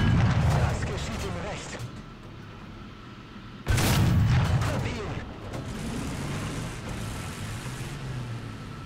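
Two heavy tank cannon shots from a Panther II in the video game War Thunder, each a deep booming blast that fades into a low rumble and engine noise. The second blast comes a few seconds after the first.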